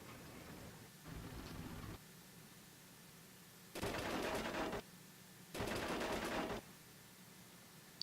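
Bursts of gunfire pounding an infantry position in the Tank Battle North Africa game at Longstop Hill, two loud sustained volleys separated by quieter stretches, with a softer earlier burst and a distant rumbling background.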